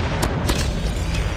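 A friendly airstrike in Call of Duty Mobile, heard as a continuous rumbling barrage of distant explosions with a couple of sharper booms standing out, dense and steady throughout.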